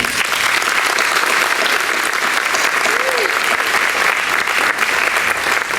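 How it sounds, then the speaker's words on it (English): At a university spring reunion banquet, a large crowd of diners gives a loud, sustained round of applause that fills the room, with a brief voice or cheer rising above the dense clapping. "Give them a round of applause."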